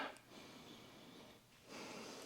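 Two soft nasal sniffs, close and fairly quiet, separated by a brief pause.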